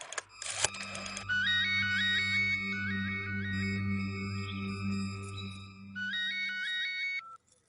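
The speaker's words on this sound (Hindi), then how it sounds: "तब मैंने विजय दीक्षित को फोन किया" A phone call rings out: a burst of dialing tones, then repeated electronic ringback chirps in steady pairs, faint and alone, cutting off before the line is answered.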